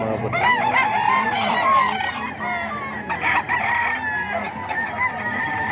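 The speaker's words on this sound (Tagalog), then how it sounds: "Dami nilang manok lagi mga boss." Many chickens and roosters at a Bocaue market crowing and clucking close by, several overlapping crows in a dense continuous chorus with a little faint talk.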